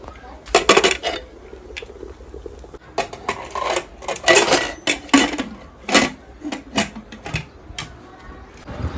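A pressure cooker lid being fitted onto a cooker of salted potatoes in a village kitchen: a run of loud, close metallic clanks and rattles in uneven bursts.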